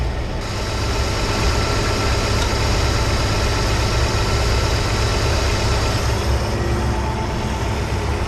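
A Ford 300 inline-six idling with a freshly cleaned Carter YFA carburetor, a steady, loud, low rumble running evenly throughout with no talk over it.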